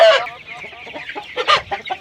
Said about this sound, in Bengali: এই যে দেখেন ডিম পারতেছে মুরগিগুলা